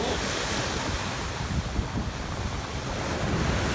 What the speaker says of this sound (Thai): น้ำขึ้นแล้วก็ มีคลื่นลมแรง